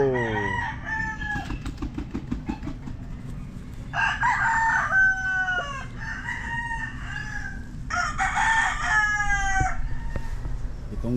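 Gamecock roosters crowing at a game farm, several long harmonic crows in succession at about 4 and 8 seconds plus a shorter one at the start, fairly close, over steady low background noise and distant clucking.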